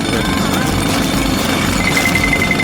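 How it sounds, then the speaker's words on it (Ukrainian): A jackhammer pounds cookies into crumbs for a cooking challenge, a dense, steady rattling roar that runs loud and unbroken throughout. "У цьому мені допоможе відбійний молоток."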